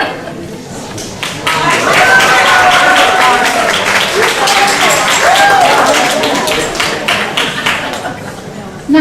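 Crowd applause with dense clapping that swells after a quieter start and holds steady, with a few voices and whoops mixed in.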